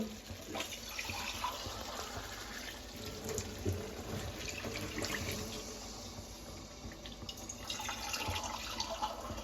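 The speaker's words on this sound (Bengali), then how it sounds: "একটু বেশি করে জল দেবো কারণ আমাদের বাড়িতে সবাই একটু ঝোল পছন্দ করে" Water poured into a pan of chicken curry during cooking, a faint, steady splashing trickle with a thin background whine, continuous throughout and without speech.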